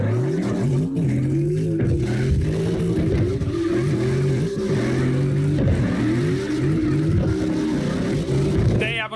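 Trucks drift and rev hard in CarX Drift Racing Online, several engines overlapping with rising and falling whines and screeches, loud and continuous, with a voice talking over them.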